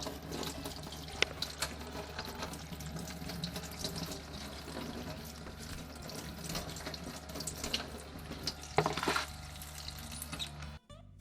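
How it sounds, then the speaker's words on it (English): Zucchinis washed under a running kitchen tap, with steady water splashing into a sink and soft handling noises over the stream, fairly faint and close, ending with a brief knock. "Wash the zucchinis in clean water."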